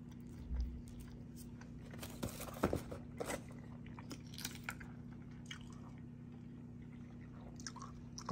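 Crunchy, wet chewing and biting close to the mic during a meal of eggs and bacon, with scattered crisp bites over a low steady hum, no talking.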